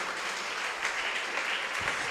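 A church congregation applauds together in a steady, even wash of clapping from a crowd, sustained throughout without a break.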